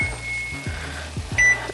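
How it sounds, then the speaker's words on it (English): A kitchen timer goes off while fish cooks on a stove, a steady high electronic tone running alongside low sizzling and clattering, with a brief brighter beep near the end; no one speaks. "my timer just went off"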